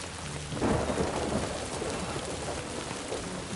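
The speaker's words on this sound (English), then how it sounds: "The rain effect is so cool." Heavy rain and thunder in the video game Death Stranding 2: a dense, steady downpour with a deep rumble of thunder swelling early on, with no voices.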